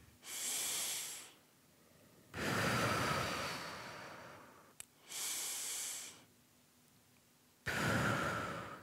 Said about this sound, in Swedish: Att försöka andas med långa, djupa andetag. In genom näsan, ut genom munnen.